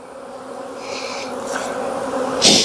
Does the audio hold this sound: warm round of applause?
no